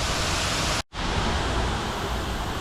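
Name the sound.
waterfall near the Playhouse in New Hope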